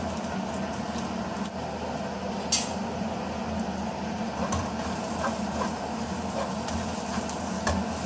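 Chopped onion and garlic toast in a hot pan on a home stove, giving a steady, even sizzle with soft stirring scrapes and an occasional louder clink, close up and continuous.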